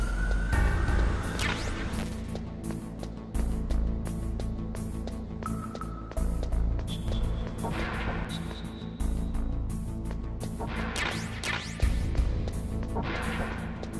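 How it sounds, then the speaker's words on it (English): Police sirens wail in the background, rising and falling over a steady low rumble of traffic, with several sharp bangs scattered throughout. "sometimes we can't help but hear sirens in the background here"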